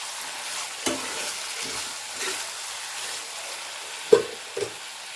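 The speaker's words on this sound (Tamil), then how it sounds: "உருளைக்கிழங்கு கூட வந்து தேவைக்கு தக்கன உப்பு வந்து சேர்த்து நம்ம வந்து நல்லா கிண்டி விட்டுக்க வேண்டியதான்" Potatoes frying with salt in a pan for an aloo matar curry, a soft steady sizzle with several clinks and scrapes of a spoon stirring, close and fairly quiet, no talk.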